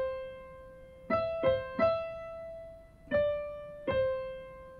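Part of the Amazing Grace melody in C is played on piano as five distinct notes at an unhurried pace. Each note rings and decays, and no voice is heard.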